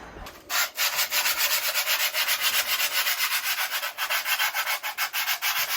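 Rust being rubbed off the pedal carriage parts of a Marcos Mantula, a loud close abrasive scrubbing in fast regular back-and-forth strokes, steady for several seconds with brief pauses, no talk.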